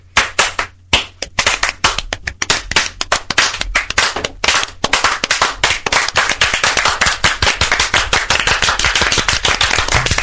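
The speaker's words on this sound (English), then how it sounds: "I think that's a round of applause." Applause at a brewing company session, beginning with a few separate sharp claps from nearby hands that quickly swell into a loud, dense, steady round of clapping.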